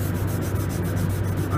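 Car clear coat being sanded with 500 grit sandpaper by hand, a steady close rubbing scrape with a faint rhythmic back-and-forth pulse throughout, no talking.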